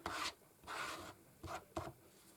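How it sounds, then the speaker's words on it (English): Scraping excess material off a wooden spice rack, four quiet rasping strokes, two longer then two short, close up and alone. "Just scrape some off."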